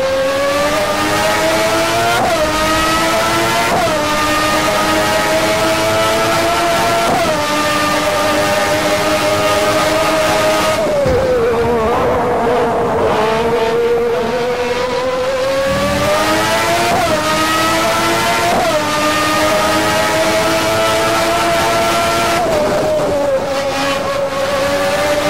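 A 1992 F1 race car mod in a stock car racing video game, its high-pitched engine screaming continuously and loudly, climbing through repeated gear shifts with a wavering stretch as the car slides under acceleration.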